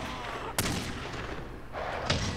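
Gunshots ring out in The Godfather: The Game, two sharp loud cracks about a second and a half apart over a steady background hum.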